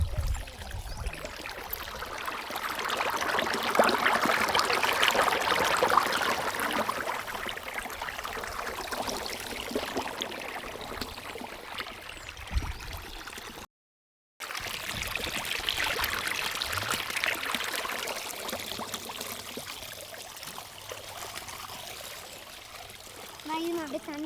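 Water being sprinkled, with a continuous hissing trickle and splatter that swells and eases, and people talking over it.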